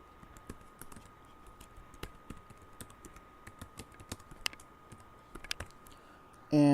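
Keys click steadily on a computer keyboard as a website address is typed out, a quiet run of irregular taps close by with no talk over it.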